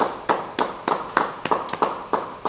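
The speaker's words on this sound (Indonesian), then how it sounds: "Beri tepuk tangan buat Tuhan." Congregation at a church Bible study clapping in a steady, even rhythm, sharp separate claps repeating about every third of a second, close and moderately loud.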